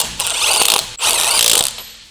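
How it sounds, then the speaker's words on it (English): A large impact wrench with a 19mm deep socket snugs the lug nuts on a 2008-2014 Mazda 3, two loud, close buzzing bursts with a brief pause between them. "Snug the lug nuts."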